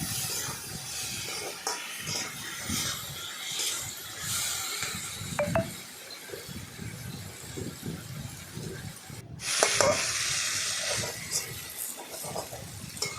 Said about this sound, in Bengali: এদিক ওদিক নাড়াচাড়া করে ডাঁটাটাকে ভাজলাম।